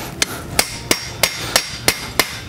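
A hammer strikes a copper spatula to bevel its edge, ringing out in sharp metallic blows at a steady pace of about three per second, close and loud.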